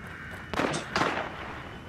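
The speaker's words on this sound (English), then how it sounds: "That was a gunshot." Two quick gunshot cracks from the horror video game The Evil Within ring out about half a second apart over a steady background noise, moderately loud with short reverberant tails.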